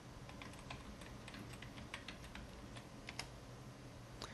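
Faint, scattered keystrokes on a computer keyboard as a new layer name is typed in image-editing software, light clicks spaced irregularly over a low background hum.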